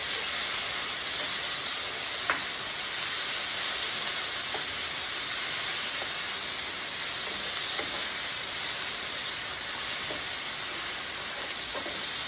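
Garlic and Italian seasoning sizzle in a pan with the chicken, sausage and mushrooms for a bow tie pasta, making a steady, soft hiss with faint scattered crackles, continuous and unbroken, with no voices over it.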